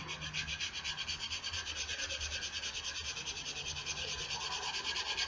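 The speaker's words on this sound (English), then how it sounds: "we do it using the sandpaper to get the rust off" Sandpaper rubs rust off an axe head in quick, even back-and-forth strokes, a close, soft rasping rhythm that carries on steadily without talk.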